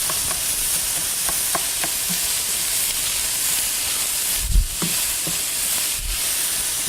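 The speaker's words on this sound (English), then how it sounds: "Sausage is just about done here." Sausage fries in a pan with a continuous crackling hiss, broken by a few soft scrapes and bumps as it is moved around; no voices.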